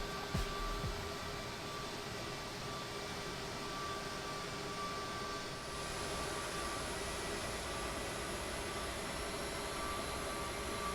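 A CRJ 700 jet engine in Microsoft Flight Simulator drones and whines steadily, with a rising high tone partway through as it spools up, and no talk.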